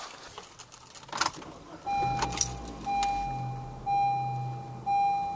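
A 2012 or 2013 Honda Civic being started in the cabin, with a soft key jingle, then a series of steady electronic chime tones and low engine hum pulses, close and quiet.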